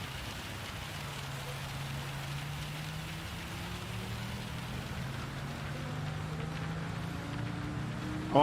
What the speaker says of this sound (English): Just got to be careful now because I can hear rain.